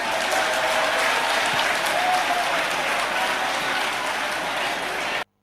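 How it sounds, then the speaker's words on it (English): Sustained, steady applause fills a conference hall during the ICAN conference for presidential candidates, greeting Omoyele Sowore of the African Action Congress; dense, loud clapping from a large audience that stops abruptly at the end. "why are they clapping?"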